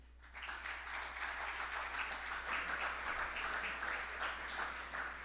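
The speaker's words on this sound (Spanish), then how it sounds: "Recibamos con un fuerte aplauso a la presidenta ejecutiva del grupo CID, doña Ligia Bonetti Dubeil." A conference audience applauds steadily as an executive is welcomed to the stage at a business forum, the clapping moderately distant and sustained without speech.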